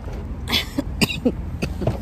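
A woman coughs in a short series of separate harsh bursts beside a parked vehicle, each cough distinct and fairly close, with quiet background between them.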